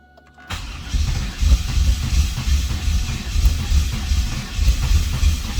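Chevrolet Camaro with known mechanical problems, engine cranking and catching, then running with a rough, steady low rumble close by after a brief quiet start; no talk.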